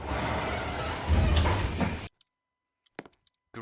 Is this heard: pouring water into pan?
no